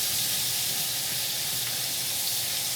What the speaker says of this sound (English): So I'm going to saute these onions here a little bit.